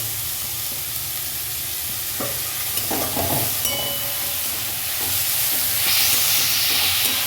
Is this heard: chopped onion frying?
yes